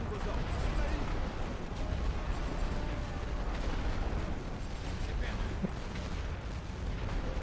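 Dull, rumbling artillery barrage in the World War I strategy game The Great War: Western Front, a continuous low roar of distant booms and impacts, with someone talking over it.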